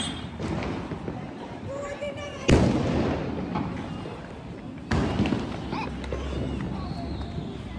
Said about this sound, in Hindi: तो मैंने सारे बम फोड़ लिए अपने